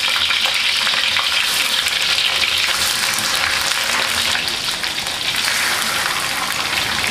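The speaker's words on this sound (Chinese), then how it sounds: "油烧热后我们调小火，然后像这样拿住黄骨鱼，一只手拿尾，然后慢慢的把它放下去。" Yellow catfish frying in hot oil over low heat, a loud, steady, close sizzle and crackle running unbroken throughout with no voices.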